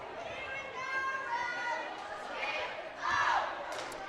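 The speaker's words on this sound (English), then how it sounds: "We get great cheers from our cheer squad." Cheer squad cheering at a high school volleyball match between Rich and Lyman, a steady crowd roar of mixed voices with a louder burst of shouting near the end.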